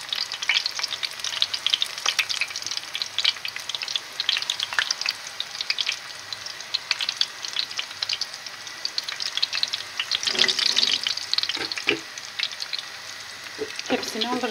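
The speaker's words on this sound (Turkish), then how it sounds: "Hepsini kızartacağım. Böyle çok az yağ oluyor." Cheesy potato balls fry in a shallow layer of oil with a steady, close crackling sizzle throughout, punctuated by a few sharper pops and stirring clicks near the end.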